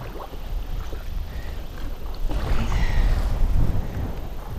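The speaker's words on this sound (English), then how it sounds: "Windy." Gusty wind blowing across open water around a fishing kayak, a steady broadband rush with low rumbling buffeting on the microphone that swells louder midway, no voices.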